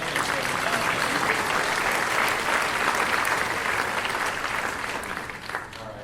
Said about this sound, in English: I think a round of applause for the droid translator.